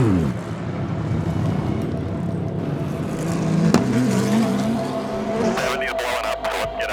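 A GT race car runs on track at an IMSA Michelin GT Challenge with its engine blowing up, a loud rough engine roar with a sudden sharp crack midway, followed by sputtering and fading mechanical noise.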